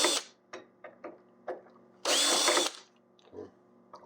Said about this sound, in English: you take your drill with your pilot point bit, and you just drill your holes like you normally would